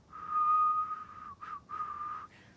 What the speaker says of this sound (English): I am not a great whistler.